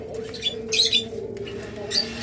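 Pet birds including a blue conure pair among lovebirds and cockatiels give short squawking calls over a low background hum, a few bursts close together in quick succession.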